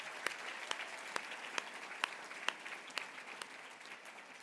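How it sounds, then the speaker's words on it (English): Applause from a gala audience at an annual award celebration, a dense steady patter of many hands clapping with a few sharper claps standing out, moderately loud and continuous with no voices over it. "Let's give them a round of applause."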